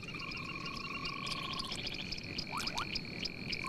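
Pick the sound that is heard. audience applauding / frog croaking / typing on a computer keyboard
frog croaking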